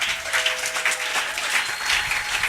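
Church congregation applauding during a French-language worship service, a steady wash of many hands clapping together for the whole stretch, fairly close and full.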